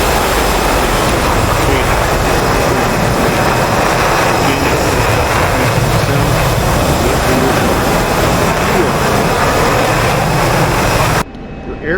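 An F-16C fighter jet in the DCS flight simulator, set up for an air-to-ground JDAM bombing run, gives a loud, steady engine roar from the cockpit that holds throughout before cutting off abruptly near the end.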